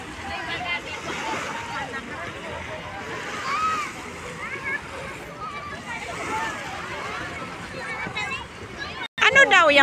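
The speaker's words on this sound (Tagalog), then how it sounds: "Ano daw yung bangka na yan, Merly?" A boat moves on the sea off Boracay, giving a steady wash of water, splashing and engine noise that continues throughout, with people talking over it.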